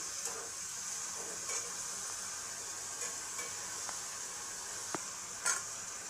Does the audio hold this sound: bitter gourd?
yes